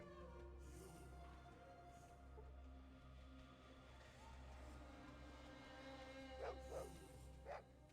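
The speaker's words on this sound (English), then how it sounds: "Maybe because it's scripted for that to be barking over there." Dog barking somewhere in the Fallout 2 game world, a few short distant barks late in the stretch over a steady low hum and faint ambient noise.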